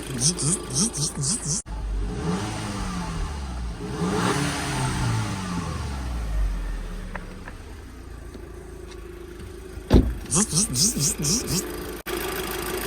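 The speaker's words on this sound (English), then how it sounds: "warm itself up, give it a few revs, get the pressure building, and see if it's got any leaks" A VW Jetta 2.0 TFSI EA113 engine warming up, its steady idle rising into a few smooth revs and falling back, close by, with someone talking over parts of it.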